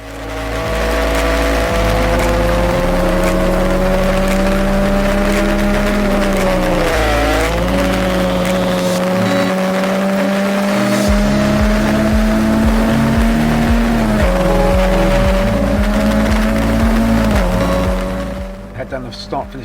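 A Formula Ford race car lapping Donington Park, heard from the cockpit: a loud, sustained engine drone that rises with each gear, with clear dips at the shifts, under a driver talking throughout.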